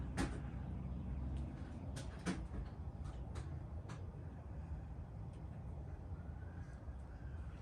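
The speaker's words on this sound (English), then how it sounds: "here's the almost never-ending spin down" A 1948 Emerson Electric 30-inch pedestal fan winding down after switch-off, a low fading rumble and whir with scattered clicks and rattles at the start, steady and faint throughout.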